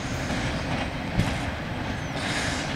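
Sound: intermodal freight train passing on track

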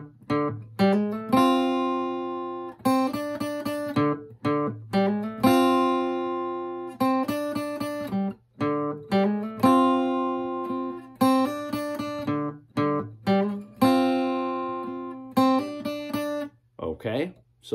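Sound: guitar playing a riff

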